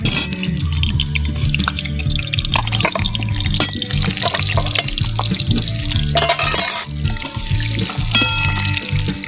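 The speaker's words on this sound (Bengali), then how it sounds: "দেখো মা এবার আলুগুলো ভেজে নেবে।" Potatoes fry in hot oil in a heated kadai, a busy bubbling sizzle with scattered clinks and liquid spatter, loud and close throughout.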